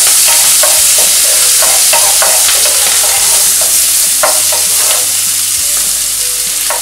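Ingredients for a chicken spinach lasagna sauté in a pan, a loud, constant close sizzle with occasional soft scrapes of stirring.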